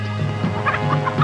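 Chickens clucking in a crowded setting as crates of birds are loaded, with a steady low hum beneath the short, repeated clucks.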